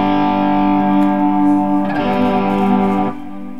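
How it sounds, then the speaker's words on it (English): Electric guitar played through a Marshall-style distortion channel with a strongly set chorus effect, switched via a Carl Martin Octa Switch MK3, gives sustained overdriven chords with a wobbling, shimmering modulation, loud and alone, with a fresh strum near the two-second mark. "you'll hear the difference when I select Marshall plus the chorus"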